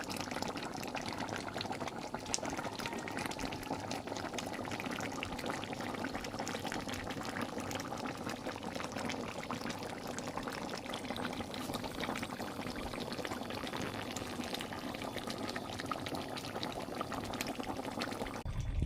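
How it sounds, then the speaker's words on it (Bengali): Chicken curry bubbles and boils in a pot, a steady close burbling with continuous small pops and liquid gurgles, no voices. "হেভি লাগছে না সাউন্ডটা শুনতে? টকবক টকবক টকবক করে ফুটছে"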